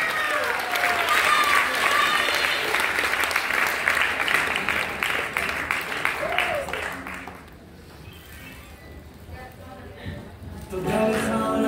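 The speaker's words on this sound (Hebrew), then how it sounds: "מחיאות כפיים" Audience applause fills a graduation ceremony hall in Ashdod, loud sustained clapping that fades to a quieter lull before swelling again near the end, with voices mixed in beneath it.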